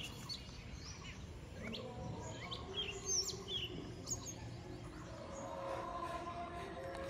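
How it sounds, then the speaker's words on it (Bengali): Birds call outdoors on a cold morning, with scattered short chirps and tweets, some fairly close, over a faint low background hum. "পাখিগুলো শুধু ডাকছে, দেখো শুধু।"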